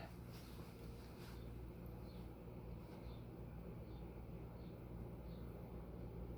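An Emerson Designer Series CF-2052 polished brass ceiling fan motor spins up with a steady low hum and a thin, faint whine riding above it, quiet and continuous.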